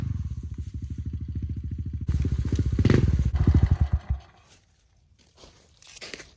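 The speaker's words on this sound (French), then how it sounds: "Donc on reprend la moto et on se déplace sur le second spot." A motorcycle rides between spots in woodland terrain scouted for a BMX/MTB trail, its engine chugging loudly and close with a rapid pulsing rhythm, revving briefly before cutting out, followed by quiet rustling.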